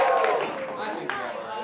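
A theatre audience at an anime improv comedy show claps and cheers in a short burst that fades slightly, with voices rising over the clapping close by.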